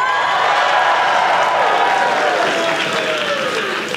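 A crowd at the opening ceremony of a FIRST Robotics district event in New Hampshire cheers and applauds, a loud, sustained wash of clapping and whoops filling a large hall, with a few shrill whistles rising above it.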